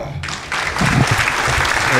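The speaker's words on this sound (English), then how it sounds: "Round of applause for yourself, Lonnie." A small group breaks into applause, the clapping steady and fairly close, rising after a brief pause and continuing to the end with faint voices underneath.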